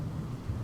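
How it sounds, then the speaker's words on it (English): Low thunder from a big storm rumbles steadily throughout, a deep continuous roll with no voices. "Did everybody get that thunder?"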